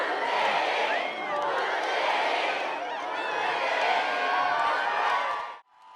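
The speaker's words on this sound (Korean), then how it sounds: "문재인 전 대통령 내외가 서울역에 도착하자 지지자들이 환호합니다." A large crowd of supporters cheering and shouting at Seoul Station as a former president and his wife arrive, loud, dense and continuous with whistles and overlapping voices, cutting off abruptly at the end.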